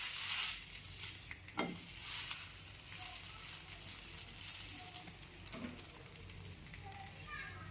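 Bread slices frying in oil in a pan for a bread omelette snack, a steady soft sizzle running throughout with a few brief clatters and faint background voices.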